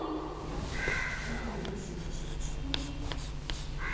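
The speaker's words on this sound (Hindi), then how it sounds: "देख लीजिए, शीर्षक तो मैं लिखती हूँ" A pen writes the title of a story on paper close up, producing scratchy strokes and short taps over a steady room hum with no speech.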